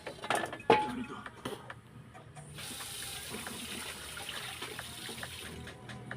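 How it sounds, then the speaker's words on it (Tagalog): Tap water runs into a sink as a kawali frying pan is rinsed, a clattering knock of metal first, then a steady close splashing stream. "tugasan muna natin yung kawali bago natin isalang"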